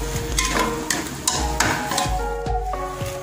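Noodle broth with spices bubbles and sizzles in a pot on a home stove, with a steady simmer under repeated scraping strokes and clinks of a utensil against the pan.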